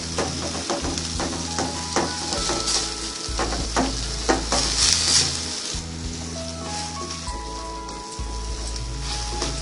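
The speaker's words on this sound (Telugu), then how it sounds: "ఇది పచ్చి వాసన పోయే వరకు బాగా ఫ్రై చేసుకోవాలి" Green chilli pieces sizzle loudly in hot oil in a pan for Hyderabad-style chicken curry, with a spoon stirring and clinking through them at close range and a continuous spitting crackle underneath; nobody speaks.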